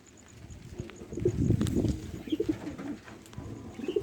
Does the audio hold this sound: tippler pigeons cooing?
yes